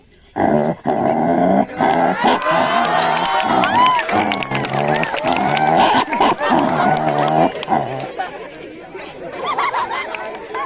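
A human voice imitates dogs fighting, with loud, close snarls, growls and yelps in rapid, uneven bursts over about eight seconds before trailing off into quieter noise.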